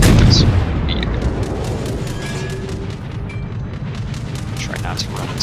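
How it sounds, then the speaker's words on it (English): An enemy destroyer explodes in World of Warships, heard as a heavy boom at the start that settles into a long low rumble, with sharp crackling gunfire bursts repeating throughout. "Enemy destroyer blown up."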